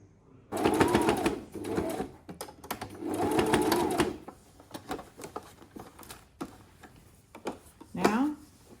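Sewing machine stitching fabric for a protective hipster garment, two close, loud bursts of rapid whirring stitches, then short start-stop runs, with a person talking in between.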